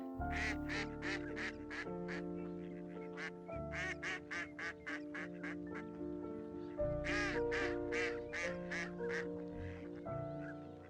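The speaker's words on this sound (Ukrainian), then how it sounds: "Ось такі красені крижні." Mallard ducks quacking repeatedly in lively bursts, nasal calls overlapping in quick series with short pauses, fairly close by.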